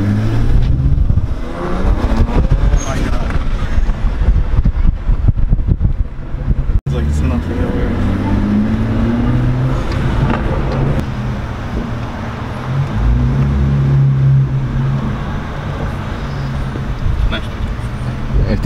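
A BMW 335i accelerates and drives, with a loud engine and road rumble running throughout and a sharp pop near seven seconds, while people talk over it.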